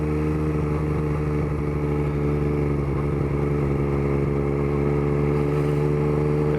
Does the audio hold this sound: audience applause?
no